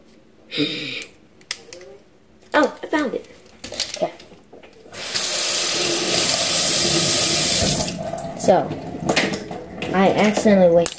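Tap water running onto a buttered pan in a home kitchen while baking gingerbread cookies, a steady hissing stream lasting a few seconds, preceded and followed by a person talking and light clinks of kitchenware.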